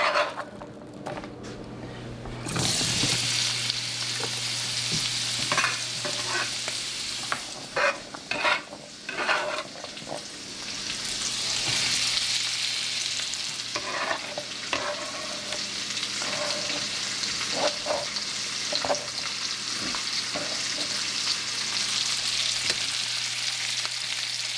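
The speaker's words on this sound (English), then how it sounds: "now we'll put this over in my bacon grease and wilt them a little bit" Cabbage wilts and fries in hot bacon grease, a steady close sizzle with repeated scraping stirs through it, no voices over the sound.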